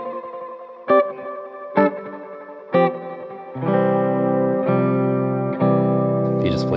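Guitar chords are strummed one at a time through a Strymon BigSky effects pedal set to a tape echo delay, each followed by quick repeating echoes, then sustained chords ring out with a smeared delay tail.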